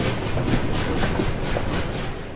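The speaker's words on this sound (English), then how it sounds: "The doors shut, clank, clank, and the train leaves." Passenger train pulling away from a station, a steady broadband rumble with faint rhythmic clatter and hiss throughout, moderately loud and close, no voices.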